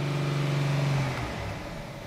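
A Dodge Charger engine with an electronic throttle body fault revs steadily but holds back as if limited, the tone dropping away partway through, close and loud with no talk.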